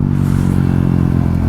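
A KTM 390 Duke single-cylinder motorcycle engine-brakes on the road, giving a loud, continuous rumbling drone with a steady pulse throughout.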